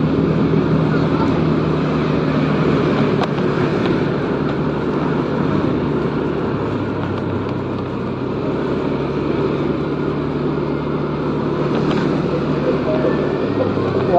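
Motorcycle pulling away and accelerating along a quiet road at night in Sawangan, Depok, its engine a steady rumble blended with heavy wind buffeting on the rider's microphone.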